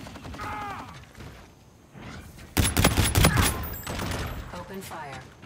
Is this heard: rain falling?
no